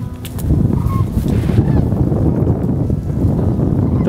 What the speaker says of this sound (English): Those are sandhill cranes.